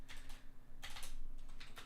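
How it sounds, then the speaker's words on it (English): Fast clattering keystrokes on a gaming keyboard, several quick bursts of close clicks separated by short pauses, with no voice over them. "my keyboard's too fast. It's a gaming keyboard."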